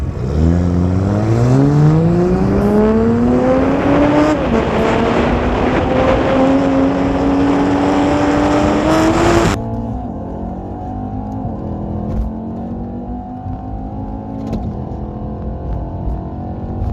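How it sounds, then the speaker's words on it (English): A Toyota Supra pulls hard from a 40 mph roll in a street race against E63s cars, its engine note climbing steadily through rising revs and shifting gear, loud and close, then easing as the pull ends. "So we're gonna do a quick 40 roll with the Supra."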